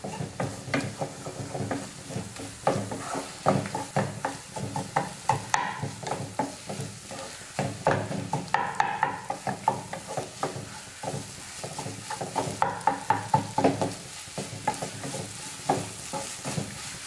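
Tapioca egg masala is stirred in a hot pan, with a rapid run of close scraping strokes over a low sizzle that go on for the whole stretch.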